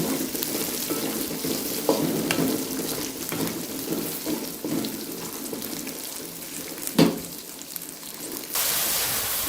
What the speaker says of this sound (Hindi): अब इसके अंदर मैं मटर ऐड करती हूँ।